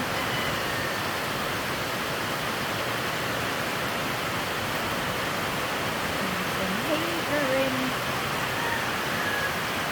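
Heavy evening rain falling, a dense, steady roar of broadband hiss with no breaks, loud and close, with a faint voice briefly audible beneath it.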